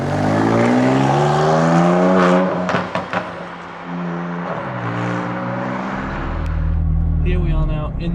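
McLaren 620R driving in traffic, its engine droning steadily from inside the cabin with a brief rise in revs, loud and continuous under someone talking.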